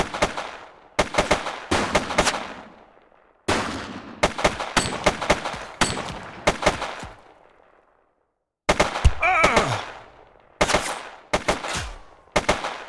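Gunfire rings out in The Precinct video game: loud bursts of sharp shots, some in rapid automatic strings, separated by short silences and fading echoes.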